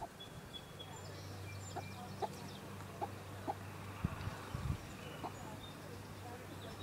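An angry hen dust bathing, giving soft, scattered clucks and short scratchy scuffs at close range over a quiet background, ending with a brief louder knock.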